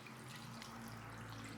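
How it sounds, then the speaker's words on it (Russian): Milk, about 200 ml, is poured into a bowl of minced beef and fatty pork, giving a steady, close liquid trickle that runs unbroken for under two seconds with no talk over it. "Добавляем сюда молочка 200 миллилитров."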